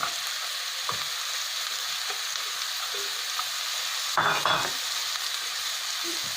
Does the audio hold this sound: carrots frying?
yes